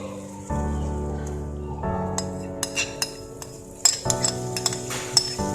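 A mixture of milk and semolina is poured into melted sugar in a pan for egg semolina halwa, with a sustained pouring hum followed by scraping and clinking of a spoon as it is stirred.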